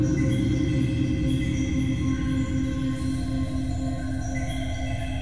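Synthesizer space textures played on a keyboard, a dense sustained pad of layered tones with slowly shifting high notes, steady and fairly loud with no talk.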